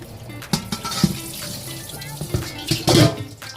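Cold tap water runs over vegetables in a kitchen sink while Nigerian edikaikong soup is prepared, a steady splashing stream with clattering handling sounds and brief louder splashes near the end.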